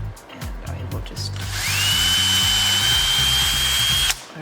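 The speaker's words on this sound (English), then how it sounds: "And the drill bit is to the right length." A power drill bores into wood for a cockatoo intarsia, whining up to a steady high pitch for a few seconds before stopping abruptly, loud and close after some brief handling noises.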